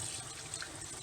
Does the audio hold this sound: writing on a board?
no